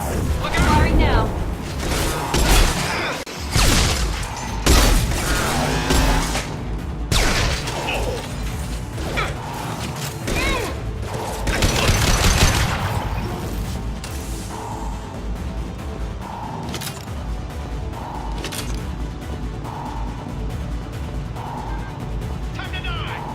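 Gunfire in the shooter Mass Effect 2, a busy combat mix of shots, crashes and mechanical clatter, loudest in the first half and easing toward the end, with voices shouting over it.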